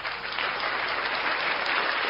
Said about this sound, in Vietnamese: Đám đông hoan hô nồng nhiệt.